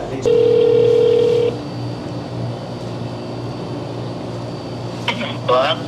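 A telephone sounds a steady dial-type tone for about a second at the start, followed by faint background noise and a few short tonal blips near the end as a call is placed.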